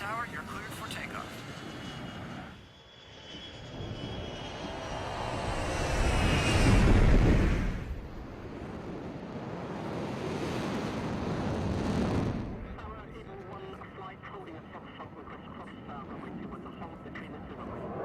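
A military jet takes off from Nellis with a broad engine roar that swells, eases, then builds again before settling into a steadier distant rumble.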